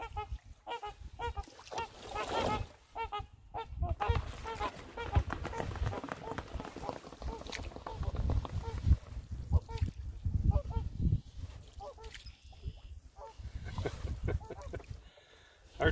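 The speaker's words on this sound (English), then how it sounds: "Got some swans up ahead." Swans calling from open water during an overnight canoe trip, a string of honking calls rising and falling over steady paddling and water noise, fairly close and moderately loud.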